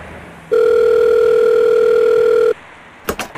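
A steady telephone tone sounds loud and alone for about two seconds as a call rings through on a phone, then cuts off abruptly and brief handling noises follow.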